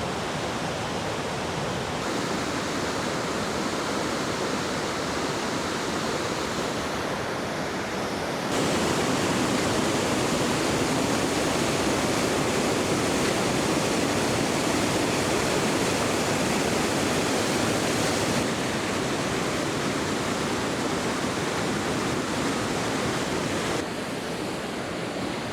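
Wadsworth Falls pours in a steady, loud, broadband rush of falling water that fills the whole stretch without pause, swelling a little louder through the middle section before settling back.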